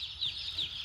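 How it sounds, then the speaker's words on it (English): Baby Cornish cross meat chicks peeping in a continuous high chorus, with a few brighter chirps rising above the steady flock chatter, close and moderately loud. "So these are the baby Cornish cross meat chickens."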